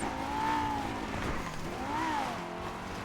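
A car in GTA drives with a droning engine that rises and falls in pitch twice as it revs and shifts, moderately loud and continuous, with faint tire noise underneath.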